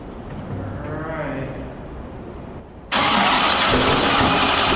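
A C6 Corvette competition drift build cranks and suddenly catches on its first startup, the rough, loud engine jumping to a steady, rowdy idle after a few seconds of cranking and background noise.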